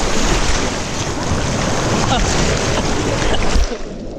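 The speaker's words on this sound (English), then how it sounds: "It's just throwing water." Rushing water sprays steadily down an open-air water park slide with no roof, a loud broadband wash with wind buffeting the microphone, continuous throughout and cutting off sharply near the end.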